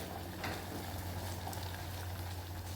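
Soaked tamarind is squeezed and strained by hand into water for ginger kuzhambu in a home kitchen. The result is a continuous close, wet sloshing and trickling over a low hum.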